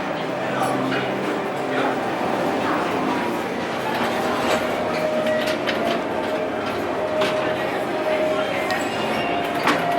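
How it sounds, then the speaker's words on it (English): A ghost train ride at Phantasialand amusement park in Brühl, Germany rolls steadily along with continuous rumbling and clattering, with a dog barking and voices in the background. "This is the park's ghost train."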